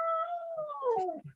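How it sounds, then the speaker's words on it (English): Dog howling close by, a single drawn-out wavering howl that slides downward and breaks into short whimpering yips at the end. "He howls and all sorts."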